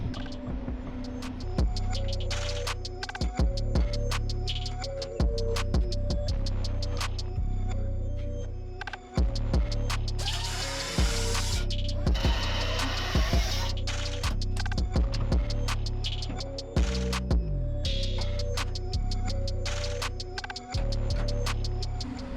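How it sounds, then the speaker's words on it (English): A cut in the passenger-side cab of a 1949 Jeep Willys pickup is welded in a long run of short, sharp crackling bursts and ticking pops, with brief pauses, close and fairly loud over a steady electrical hum. "I'll just weld that cut up now"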